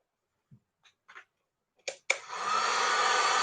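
A hair dryer switches on after a few small taps and clicks to dry a craft project, then runs as a steady, close whooshing hum.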